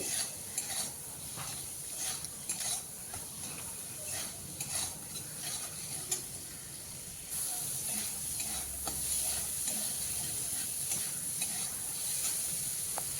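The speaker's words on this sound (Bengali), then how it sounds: "টমেটোগুলো আমি দু থেকে তিন মিনিটের মতো সময় ধরে কষিয়ে নেব তাহলে টমেটোর কাঁচা গন্ধটা চলে যাবে" Raw tomatoes with turmeric sautéing in a pan give a steady close sizzle, broken by repeated scraping and stirring clicks, with the frying growing a little louder and hissier toward the end.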